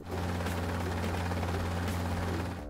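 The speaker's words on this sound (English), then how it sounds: "Helicopter." Cartoon helicopter rotor thudding in a dense, continuous chop, loud and steady throughout, then cutting off abruptly at the end, with no voices.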